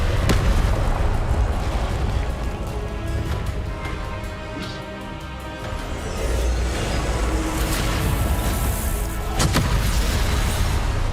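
Incendio and Confringo spells are cast in Hogwarts Legacy, producing loud rumbling fiery blasts and booms that roll on almost continuously, with sharper bursts standing out near the start and end.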